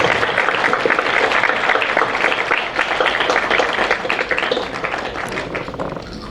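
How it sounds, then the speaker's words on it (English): Sustained applause from an audience at a youth excellence awards ceremony, dense steady clapping throughout that eases slightly toward the end, with no voices over it. "A huge round of applause to Vivek Sagar Garu, please."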